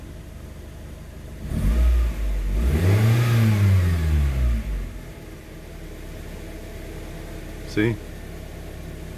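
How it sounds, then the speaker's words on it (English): A 1995 Toyota Tercel engine rises in a rev from idle and settles again, a close mid-pitched swell with a whine over a steady hum, and a brief word spoken near the end. "once I idle up. Then you hear that whine."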